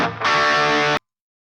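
A short burst of heavily distorted electric guitar chord through a distortion pedal and reverb, loud and close, with a reverb wash, cutting off abruptly after about a second.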